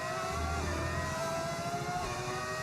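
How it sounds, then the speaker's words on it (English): Formula One race car engine in a racing video game, a loud continuous high-pitched whine with shifting engine tones and a dip in pitch partway through, heard alone. "I feel like my downshifts sound funny."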